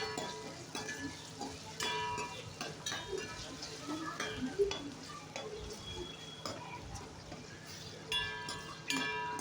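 A spoon stirs homemade pappu charu, a Telugu lentil soup, in a cooking pot: soft scraping and sloshing with occasional metallic clinks against the pot, quiet and close, under a faint low hum.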